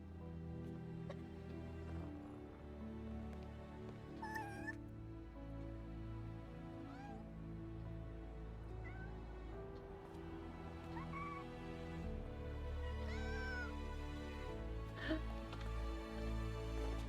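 A cat meows intermittently in PowerWash Simulator 2, several short rising mews scattered over quiet steady game background, fairly faint and spaced a few seconds apart.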